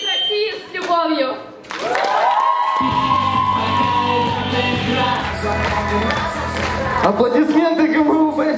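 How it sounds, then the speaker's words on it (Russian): A student audience bursts into applause and cheering, loud sustained clapping with whoops and shouts, following a sung ending with a host speaking over the crowd. "Аплодисменты, друзья!"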